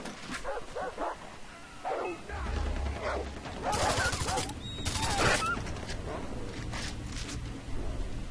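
A dog barks several times in Far Cry 3, sharp yelping barks of moderate loudness amid gunshots and other game sounds, with a voice speaking over parts of it.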